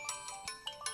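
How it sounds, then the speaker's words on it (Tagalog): A cellphone rings with a short, bright electronic ringtone, quick repeated chiming notes that pulse in a steady rhythm, fairly faint, with no talking. "Itay pa'y ngagriring ti cellphone ni Limuel."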